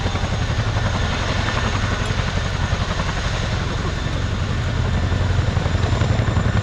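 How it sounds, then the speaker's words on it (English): A Chinook helicopter climbing into the hover at an air show, its loud continuous rotor thump and engine roar steady and close throughout. "As the aircraft gently corkscrew climbs into the hover"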